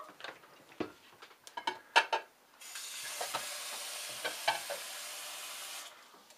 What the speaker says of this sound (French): je vais faire cuire un tout petit peu, je mélange le tout